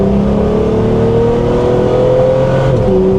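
A modded Chrysler Prowler revs hard and spins its tires, a loud, close, continuous engine roar with rising pitch and tire noise throughout.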